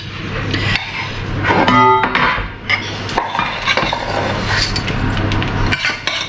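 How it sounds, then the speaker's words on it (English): Sticky flapjack mixture scraped from a spoon into a greased baking tin, giving close metallic clinks and rubbing scrapes in an irregular rhythm, with one bright ringing knock near the middle. "Scrape it off of the spoon, and I'm going to just put it into the prepared greased tin"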